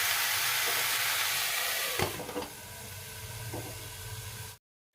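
Potatoes, pumpkin and radish fry in a pan, a steady close hiss of sizzling oil with a couple of clatters midway before it cuts to silence, with no voices.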